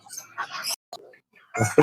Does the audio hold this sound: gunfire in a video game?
no